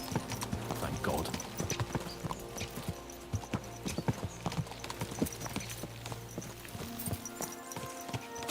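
Rhythmic clip-clop of horse hooves at a fast pace in Kingdom Come: Deliverance 2, moderately close, over a steady background of rolling wheels and ambient hum.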